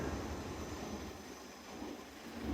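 A metro train pulls into a European station, heard as a faint, steady rumble that swells slightly toward the end, with no voices.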